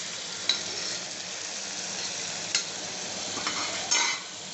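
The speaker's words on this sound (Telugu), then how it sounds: "ఇలా కొద్దిగా ఆనియన్స్ వేగిన తర్వాత టొమాటోస్ వేసుకుంటున్నా." Chopped tomatoes frying with onions in a pan for tomato rice, a steady close sizzle with a few brief clinks of the spoon stirring, no talking.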